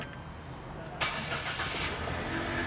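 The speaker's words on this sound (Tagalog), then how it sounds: "Then start naman natin yung ating makina. Yan, ito is normal disusi." A mini van's engine is cranked with a key and catches on a cold start, a sudden burst into a steady, moderately loud idle after a second of quiet background hum.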